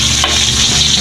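Onions sautéing in a hot pan, a dense, steady sizzle close up with no talking.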